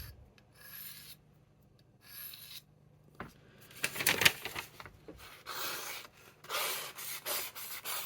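A knife edge is rubbed against a Spyderco pocket sharpening stone to dull it, giving steady, gritty rasping strokes that grow louder and denser toward the end, with no talking.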